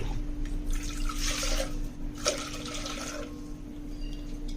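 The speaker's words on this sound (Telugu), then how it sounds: "3 గ్లాసెస్ వాటర్ వేయాలి." Water is poured from a glass into a cooking pot while preparing ragi java, a finger-millet drink, coming as a steady splashing stream in two close bursts with no talk over it.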